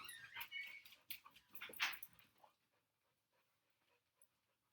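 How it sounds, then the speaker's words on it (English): A dog that has just come in from playing outside pants and whimpers close by in short breathy bursts for about two seconds, then falls nearly silent. "Doggy just got in from playing outside."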